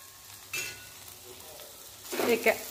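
Hot water poured onto frying spices in oil, bursting into two sharp sizzling hisses over a quiet bed of low frying, close and brief.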